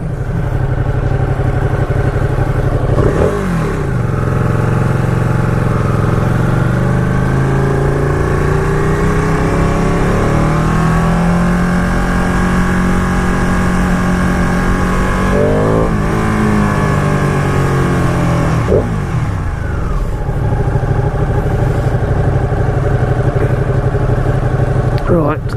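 A Ducati 959 Panigale motorcycle rides through Cambridge traffic, its engine droning loudly and steadily close by, with repeated revs rising and falling as it slows and pulls away, over continuous wind rush.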